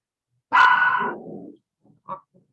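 A dog gives one sharp, fairly close bark that trails off into a growl, followed by a short quieter yip about a second later, in a quiet room.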